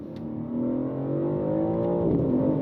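A 2025 BMW M4 CS with an 8-speed automatic accelerates hard, its engine note rising steadily with a quick shift near the end, close and loud inside the cabin.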